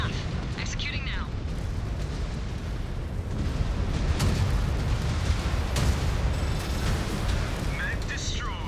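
A mech blows up in MechWarrior 5 Clans amid rumbling explosions and booming weapon fire, a dense, continuous roar with sharp bursts, while a voice speaks over it.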